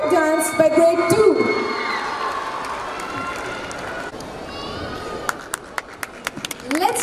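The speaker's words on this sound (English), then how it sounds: "Let's cheer for the grade 2 students." Audience cheering and children shouting at a girls' school annual day performance, a loud sustained crowd din with rising whoops, giving way near the end to a few sharp claps or beats.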